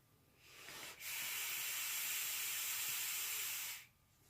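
A vape hit drawn through a Rebirth RDA with a single coil and the airflow half closed: one steady, close airy hiss lasting about three seconds, rising in and cutting off cleanly.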